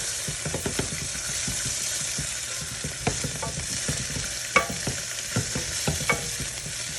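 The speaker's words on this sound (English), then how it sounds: "we're gonna give this a good stir really fast" Shrimp fry in a pan with a constant close sizzle, while a spoon stirs them in quick scraping and clacking strokes that come in irregular bursts. No one speaks.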